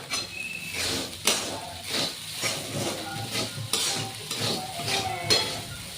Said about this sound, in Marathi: मीठ टाकल्यानंतर ते हलवून घेऊ व्यवस्थित.